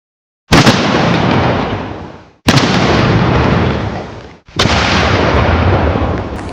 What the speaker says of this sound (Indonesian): uranium atau plutonium ini bisa meledak dengan sangat dahsyat